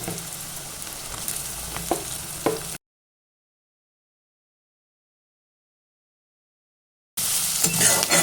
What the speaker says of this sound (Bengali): সোয়াবিনটাকে একটু ফ্রাই করে নেবো